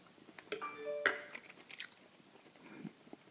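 Someone takes a bite of Weber Q 1200–grilled bacon-wrapped, butter-injected pork tenderloin and chews it, with faint close-up crunches and soft moist squishes in a quiet setting.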